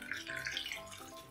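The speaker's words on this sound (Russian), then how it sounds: "Я сразу вылью в тарелку всю воду" Water poured from a container into a plate while making coconut milk, a brief close trickling splash with a steady, fairly soft flow.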